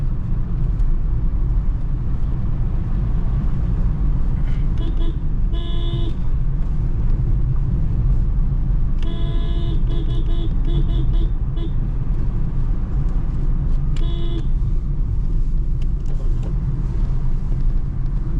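A car pulling in third gear on a tight hill road, a steady loud engine drone and road rumble throughout, with a few brief horn toots in the traffic around it.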